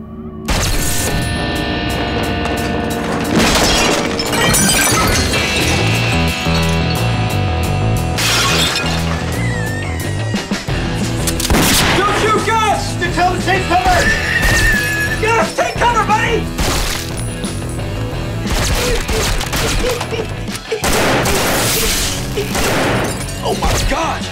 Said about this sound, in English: Somebody shot that guy's TV!